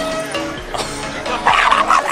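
Dogs, many of them French bulldogs, barking and yipping at an outdoor dog festival, a few quick nearby barks over busy crowd noise.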